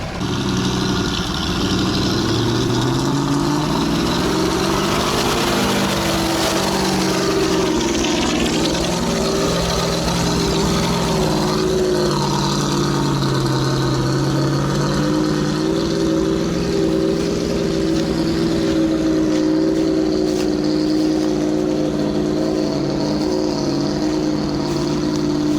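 A GAZ-66 Shishiga army truck churns through a swamp, its engine droning continuously and close by for the whole stretch, revs rising and falling as it labours through the mud, with no one talking.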